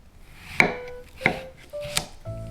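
A knife chops cucumber, onion and cabbage into bite-size pieces on a board: three firm, evenly spaced close chops with a faint rubbing sound between them, and no talking.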